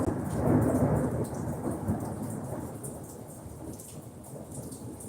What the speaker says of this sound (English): It's also raining time.